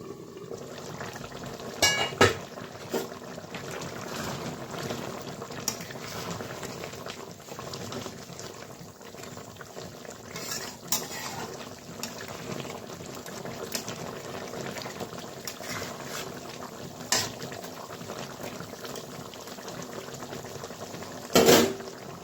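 Aier fish simmers in a covered pot on low heat, liquid bubbling and burbling steadily at moderate volume, with occasional louder clanks and knocks of the lid or utensils.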